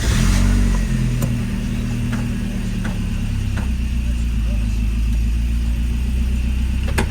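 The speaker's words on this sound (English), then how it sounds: "Let's fire it up and see how it runs." A Saab 900 engine with a misfire, fitted with new plugs, turns over and catches with a brief rev, then settles into a steady, loud idle that hums on evenly.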